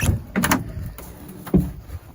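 Rear door of a 1994 Land Rover Defender 110 300Tdi being handled, giving a couple of close, short metallic knocks and a louder latch-like thud near the end.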